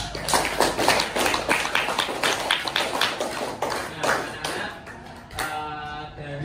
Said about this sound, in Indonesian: Beri tepuk tangan untuk teman-teman Dana